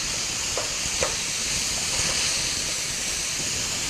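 Stir-fry vegetables sizzle steadily in a pan, a dense constant hiss with a few soft clicks and stirring scrapes, close and even throughout.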